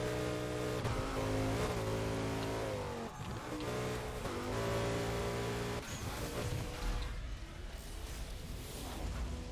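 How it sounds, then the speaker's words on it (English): A loud racing car engine in the Burnout video game roars steadily, with sustained revving and pitch shifts as it accelerates and changes gear, constant and close throughout with no talk. "This car is loud."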